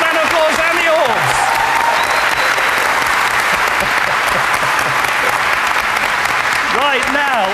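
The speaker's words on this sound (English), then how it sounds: "So give the fans a round of applause and the Orbs." Studio audience at a Halloween 2005 Most Haunted Live fan quiz applauds steadily throughout, a dense, even roar of clapping with brief voices and music-like tones near the start and end.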